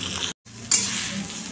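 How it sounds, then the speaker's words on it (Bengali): Onions, kalonji seeds and capsicum fry in a pan, producing a close, continuous sizzle with a brief break near the start before the crackling resumes; no one speaks. "পেঁয়াজ কালি ক্যাপসিকাম ভাজা হয়ে গেল।"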